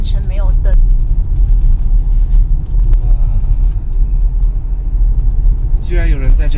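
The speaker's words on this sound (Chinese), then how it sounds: "居然有人在这里面想超车，你看马上就过来了" A car overtaking inside an unlit road tunnel on a snowy mountain highway, heard from inside another vehicle as a loud, steady low engine and road rumble that swells throughout, with voices talking over it.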